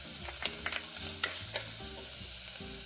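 Garlic sizzles loudly in avocado oil in a pot, a dense, continuous frying hiss with stirring clatter throughout, close and alone.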